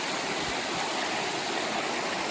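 Stream water rushing steadily beside a gold sluice at an Idaho City placer site, a dense, continuous broadband wash that stays close and loud throughout with no voices.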